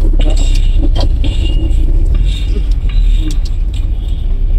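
Car driving laps around an open field during a learner's solo practice drive, a steady close engine rumble with low road noise throughout, accelerating slightly in places, no talk.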